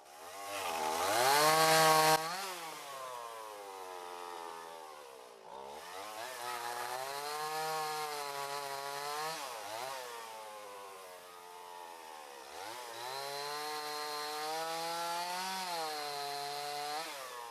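A Stihl 026 chainsaw revs continuously while cutting wood, its pitch rising and falling as it bites in, loud and close with brief dips between cuts.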